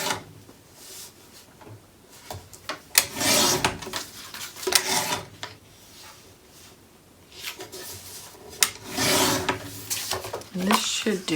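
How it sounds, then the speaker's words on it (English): Paper album liner for a mini album being trimmed down to fit, with repeated scraping, rasping cuts and rustling of paper in short bursts, close and fairly quiet, with some handling clatter between strokes. "So it needs to be trimmed down"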